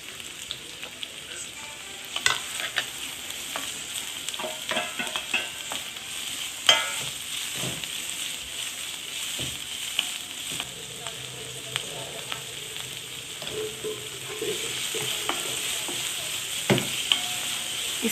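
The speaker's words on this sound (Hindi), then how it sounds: "इसमें लहसुन प्याज डाल के कुछ देर मैंने फ्राई किया, साथ ही मैंने शिमला मिर्च और गाजर भी साथ ही डाल दिए थे।" Garlic, onion, capsicum and carrot fry steadily in a pan for noodles, a continuous close sizzle broken by occasional stirring scrapes and clinks.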